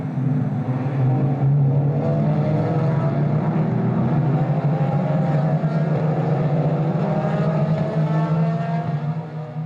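Race cars at the Estoril circuit during an Open de Velocidade qualifying race, a loud sustained engine roar with droning pitch shifts as cars pass, continuous over the whole stretch.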